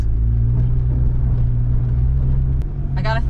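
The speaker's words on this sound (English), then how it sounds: "all that noise is just the ice crushing" A Honda Civic wagon rolls through snow, and a steady low rumble and grinding rise beneath the car as its tires crush ice. The sound is close and continuous, and a voice is heard briefly near the end.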